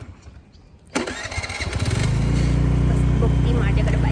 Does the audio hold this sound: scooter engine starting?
yes